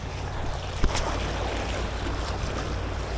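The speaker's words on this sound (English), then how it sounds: "Waves just unpredictable right here though." Ocean waves wash steadily onto a rocky Jamaican shoreline during lure fishing, a continuous broad roar of surf with wind buffeting the microphone.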